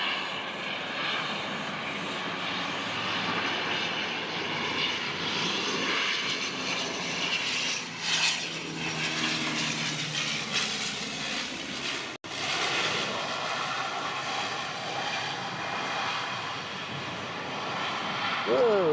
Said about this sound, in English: Nice, beautiful landing.